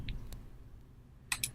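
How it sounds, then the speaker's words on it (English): Weird clicking from a Xamarin Android emulator on a computer: a faint short click near the start, then two brief louder clicks close together near the end, with no talk. "there's like a weird clicking coming from the emulator when I do that kind of stuff"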